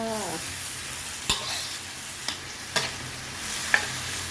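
Bamboo shoots and pork stir-frying in a pan, a dense steady sizzle broken by a handful of sharp spatula scrapes and knocks, close and moderately loud, without talking.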